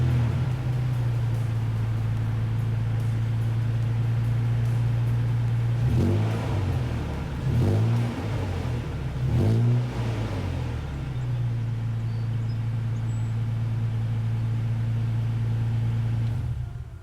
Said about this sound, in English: this truck is also built with the TRD Performance exhaust system, which sounds friggin' awesome